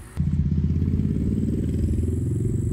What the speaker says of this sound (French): je peux pas parler sans les motos